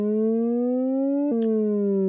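A sawtooth synth tone from a Reason Subtractor, modulated by a rising sawtooth LFO, sweeps slowly upward in pitch, drops back abruptly and begins rising again, a loud, steady electronic siren heard alone.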